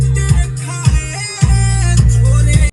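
A song with a heavy, booming bass beat plays through new ₹800 speakers fitted inside a Tata Nano car, loud and close, with thumping low notes repeating every half second or so.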